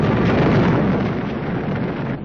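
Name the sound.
bomb explosions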